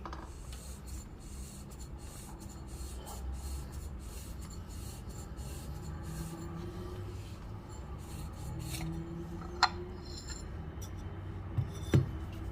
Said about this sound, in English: now I'm going to unscrew the top collar